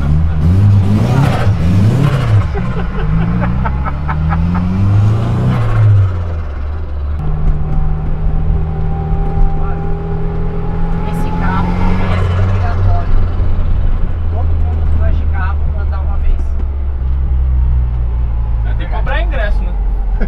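VW Kombi van fitted with an Audi S3 engine accelerating hard, with repeated rising revs and gear changes, loud and close inside the cabin while people talk over it.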